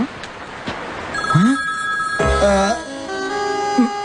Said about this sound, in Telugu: ఉండు నేను ఫోన్ చేస్తాను.